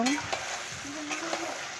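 Mutton sizzles in a hot pan while being stirred, a constant frying crackle with scraping strokes of a spoon close by.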